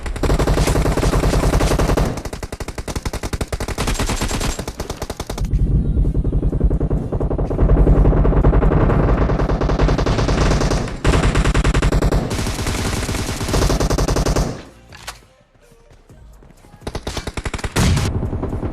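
Rapid gunfire from the PUBG video game rattles loudly and almost continuously, with bursts of automatic fire and brief lulls, including a short quiet dip near the end before the shooting resumes.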